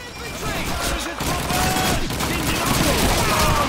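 Dense battlefield gunfire from Call of Duty 2, a steady loud fusillade of rapid shots and machine-gun bursts that continues throughout, with voices talking over the shooting.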